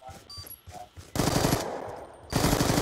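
Automatic weapon fire from the Black Ops 2 video game, with short rapid bursts early on and then two loud sustained stretches of machine-gun shooting, close and dominant.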